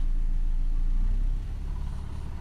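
An engine is revved during a DPF pressure test, a low steady rumble that rises briefly and then eases to a softer, uneven running sound, heard close and alone.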